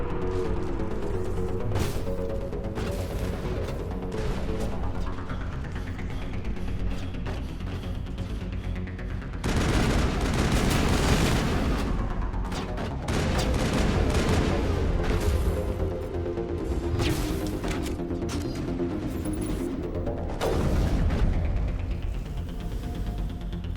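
Game gunfire in Mass Effect hammers against an energy shield, with bursts of loud, broadband impacts and booms in several clusters over a steady mechanical hum and pulsing background drone.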